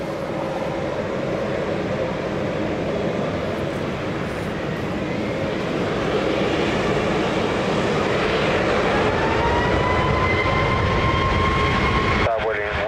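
An airliner takes off from runway 20 at Lisbon Airport with a broad, rising engine roar that holds steady and grows slightly louder, a whining tone climbing near the end, and voices talking over it.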